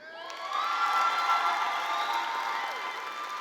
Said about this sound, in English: We'd like to give a special round of applause for our security guard, Mr. Fletcher.